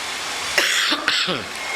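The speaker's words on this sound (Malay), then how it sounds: "Tapi kesan-kesan tu ada batuk-batuk sikit" A few short coughs from an adult man in a prayer hall, two or three harsh bursts spaced about half a second apart, close and moderately loud over a steady background hiss.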